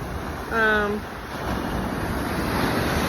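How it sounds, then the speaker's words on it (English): Ocean waves roll onto a black sand beach in a steady broadband wash with some wind, and a short tonal voice-like sound rises briefly near the start. "And so I come here to walk and to feel the energy of the ocean."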